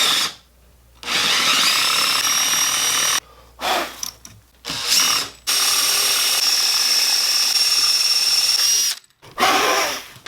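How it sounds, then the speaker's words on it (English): Power drill boring Forstner bit holes into a wooden electric guitar body for the neck pocket, several loud whining bursts of drilling with short pauses in between, close by. "I'm going to go ahead and drill some Forstner bit holes just to give some relief to the pocket"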